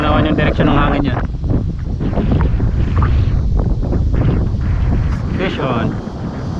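Wind gusting at a rocky seaside in the Philippines during rock fishing, a loud, buffeting roar against the microphone that swells and dips throughout, with a voice talking over it.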